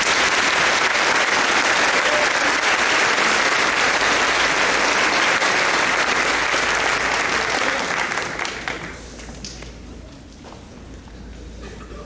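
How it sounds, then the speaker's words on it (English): Loud, sustained applause from a graduation audience honoring the faculty, dense clapping filling the hall before thinning and fading out near the end. "Join me in giving them a much-deserved round of applause"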